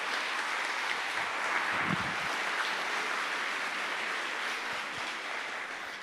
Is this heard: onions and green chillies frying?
no